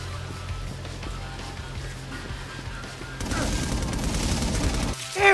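Auto turrets open fire in inFAMOUS Second Son, a sudden dense burst of rapid gunfire that kicks in partway through after quieter ambience, with voices heard earlier.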